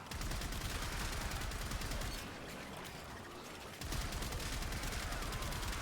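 Rapid automatic gunfire from a Komorex weapon in a video game, a dense continuous stream of shots that pauses briefly midway, then resumes at full intensity.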